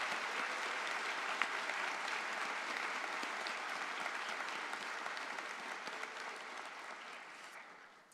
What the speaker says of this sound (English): graduates, please join me in a round of applause for all the faculty and staff involved in your